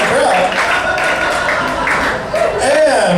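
Crowd applause and cheering from an audience at a live improv comedy show, dense and steady throughout, loud and close with whoops rising near the end.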